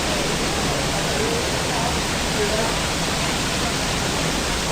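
Steady, loud broadband rush of a waterfall at Bryce Canyon, unbroken and close, filling the whole stretch without pauses.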